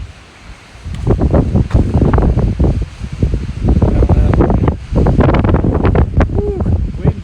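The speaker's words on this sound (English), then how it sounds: "Woo, windy." Strong wind roars and buffets the microphone on an exposed edge in New Mexico's Manzano Mountains, in loud sustained gusts with a short lull. A voice breaks in over it.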